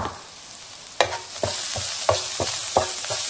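Turmeric, black pepper and salt toast with stir-fried onion in a hot pan, giving a steady sizzle broken by about five rhythmic scraping strokes of a spatula, close up and with no talking.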